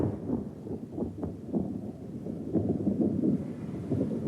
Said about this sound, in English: A very dramatic electrical storm shattering the early morning quiet in Monterey